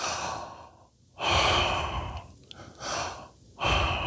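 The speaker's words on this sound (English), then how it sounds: "that out breath being released after an in breath" A singer breathes in and releases slow, relaxed exhales, three soft airy breaths rising and falling across a few seconds, close and alone with no talk.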